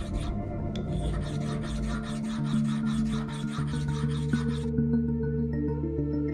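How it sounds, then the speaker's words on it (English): An onyx cup being shaped by hand with a natural grit stone gives off steady, rhythmic rasping strokes, close and moderately loud, that run repeatedly for several seconds before easing off. "uses natural grit stone to grind the onyx"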